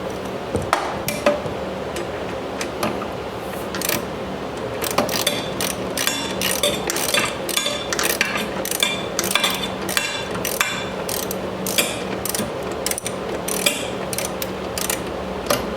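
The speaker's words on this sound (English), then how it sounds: "you're going to want to tighten this nut down so it's snug" A hand ratchet snugs a 9/16 inch nut on a Cub Cadet mower deck idler pulley, its pawl clicking in quick, loud, close bursts of repeated strokes with short pauses between.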